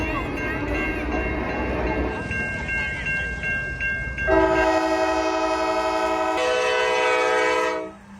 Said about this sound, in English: then you have the train that comes by in the background